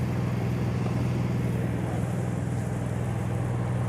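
A brand-new Onan 5,500-watt quiet gas generator on a Thor Hurricane 34E motorhome runs with a steady, even low hum that holds at a constant level throughout, with no voices.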